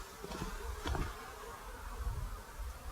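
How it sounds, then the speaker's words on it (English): Honey bees buzzing around hive frames of brood, a steady dense hum of many bees with a few louder close passes, moderately faint and without talk. "The bees on the frame of brood are generally the nurse bees, the ones that hang on."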